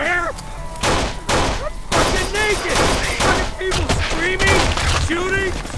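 Rapid gunfire in the video game Kane and Lynch 2: Dog Days, with dense bursts of shots and thuds running continuously and voices calling out over the firefight.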